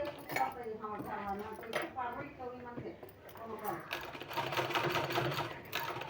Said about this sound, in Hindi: यहाँ हमको इस तरह से सिलाई लगाना है।